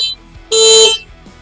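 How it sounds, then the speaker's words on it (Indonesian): A Tangkas X7 electric motorbike gives a single loud, shrill horn beep lasting about half a second, heard close up with no talking. "Oke, kita coba di klaksonnya ya."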